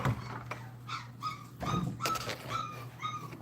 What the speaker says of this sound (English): I hear the puppies crying.